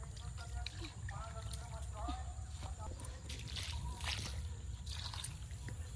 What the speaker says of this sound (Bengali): টমেটো গাছে জল দিতে হবে